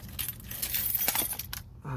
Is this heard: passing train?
no